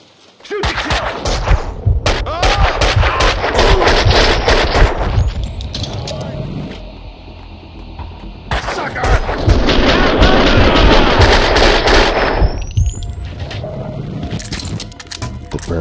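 Max Payne 2 firefight with heavy bursts of gunfire, rapid dense shots in two long loud stretches separated by a quieter lull with echoing debris, ending in a rising whine.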